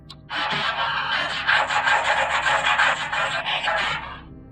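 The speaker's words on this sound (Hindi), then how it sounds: "वो हमारे विंडो पे अपने बड़े और गंदे नाखूनों से खरोंचने लगी थी" A horror sound effect of a witch's long, dirty fingernails scratching across a bus window: one loud, close, continuous rasping scrape lasting about four seconds, with no voices.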